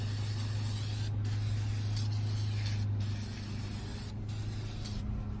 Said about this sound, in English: I just sprayed brake cleaner into the air onto the ground